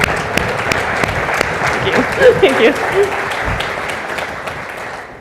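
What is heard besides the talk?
audience applause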